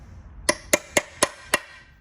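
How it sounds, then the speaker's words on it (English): Five sharp metallic hammer taps on a gearbox part during a Zetec or 1600 Crossflow to Mazda MX5 NA/NB five-speed gearbox conversion, struck close and evenly in a quick, steady rhythm with faint background hum. "I'm just got to give it a tiny little tap with a hammer to get him in there"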